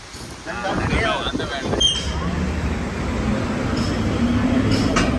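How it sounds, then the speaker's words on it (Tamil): Steady wind roars and buffets against the microphone, a constant rushing noise with a brief knock near the middle. "நல்லா காற்று"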